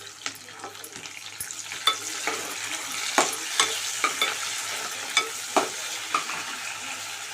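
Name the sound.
onions and curry leaves frying in oil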